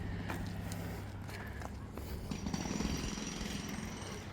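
Drilling at a work site, a continuous rough mechanical rattle with sharp hammering bursts, heard from a short distance outdoors alongside faint footsteps and ambient noise.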